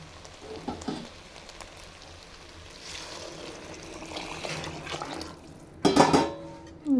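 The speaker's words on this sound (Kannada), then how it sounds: "ಈಗ ಇತ್ತಿಗೆ ನೀರು ಹಾಕ್ಕೊಡೋಣ" Water trickles and splashes into a pot of ghee rice being cooked, faint and intermittent, with a louder, closer pour near the end.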